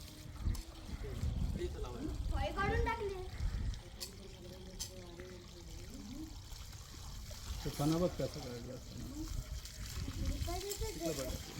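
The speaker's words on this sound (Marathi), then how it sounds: "समोर उडते ते पाणी तसं नका टाकू" Water is poured and splashed onto an Indian cobra outdoors in uneven trickles and splatters, fairly faint, while people talk over it.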